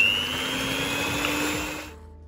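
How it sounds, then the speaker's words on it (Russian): Steady whirring drone of a hand mixer beating eggs with sugar and a pinch of salt, a continuous even hum with a high whine that cuts off abruptly near the end. "Теперь где-то 6-8 минут нам нужно взбить эту всю массу вот таким вот ручным миксером"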